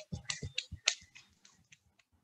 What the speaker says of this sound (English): hold one hand like this and clap with one finger, just your small finger